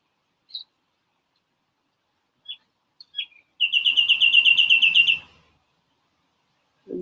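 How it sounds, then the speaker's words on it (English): Birds chirping in a forest: a few isolated high tweets spaced apart, then a rapid run of repeated chirps lasting over a second, fairly close and clear against near silence. "And birds are chirping, and I can hear all kinds of forest sounds."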